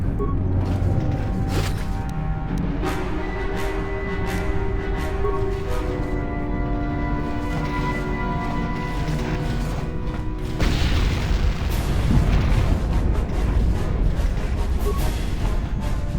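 Grenade blasts and combat effects boom and rumble inside Star Wars: Knights of the Old Republic, a loud, continuous battle wash with tonal music running underneath.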